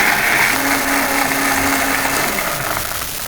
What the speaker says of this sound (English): We're gonna blend this up in the NutriBullet.